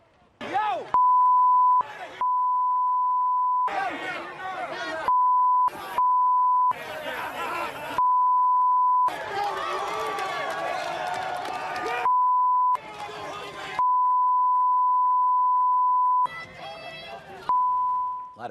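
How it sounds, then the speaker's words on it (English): A steady censor beep tone repeatedly cuts in between loud bursts of shouting and crowd noise, alternating back and forth throughout. "A lot of beeping."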